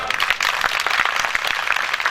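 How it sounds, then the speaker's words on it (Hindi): Crowd at an evening devotional music gathering for cow welfare in Sinwa, Ladnun claps together, a close, dense patter of many hands with a few sharper individual claps standing out. "मारी बात यदि साची लगी तो ताली बजाओ एक बार।"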